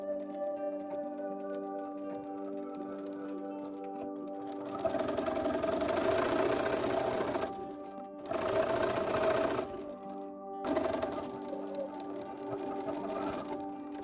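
A sewing machine stitches 5/8-inch side seams on a Simplicity S3094 garment, running in three bursts of steady whirring, the first and longest lasting about three seconds, each separated by short pauses and a quieter hum.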